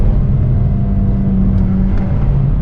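A sports car engine drones loud and steady from inside the cabin, a low continuous rumble with slight pitch rises as it accelerates, with no talking over it.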